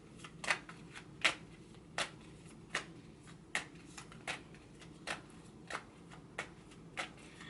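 Tarot cards shuffled in a steady rhythm, about a dozen crisp riffles roughly every half second, close and fairly quiet over a low room hum, with no talking.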